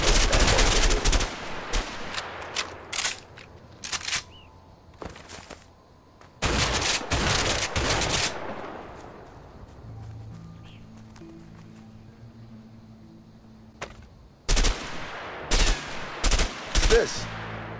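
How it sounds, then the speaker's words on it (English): Sharp bursts of M16 burst-fire assault rifle shots in the co-op video game A Way Out, aimed at empty houses during target practice, ring out loud and close in repeated clusters separated by quieter stretches, with a faint low hum underneath. "M16, burst fire assault rifle."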